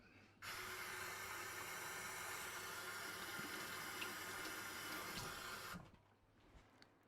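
A small paintbrush is rinsed under running tap water, a steady hiss of flowing water that starts abruptly, holds evenly for several seconds, then cuts off, leaving faint room noise.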